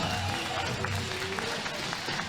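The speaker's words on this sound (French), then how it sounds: "applaudissements pour Joachim" Crowd applause for a young rider at an under-18 freestyle riding qualification event, with the rider's name Joachim, a short burst of dense clapping from spectators with some background voices.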